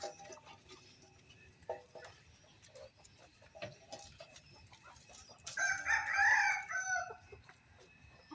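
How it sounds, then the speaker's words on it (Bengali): Chickens in a home garden cluck softly in the background, then a rooster lets out a loud, close crow in the middle of the stretch that fades after a few seconds. "ওই যে দেখেন মুরগি কই উঠছে"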